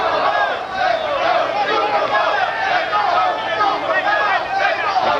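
Dense arena crowd at a 1981 professional boxing match between Wilfred Benitez and Maurice Hope, a steady roar of voices with a chanting section, heard under close commentary.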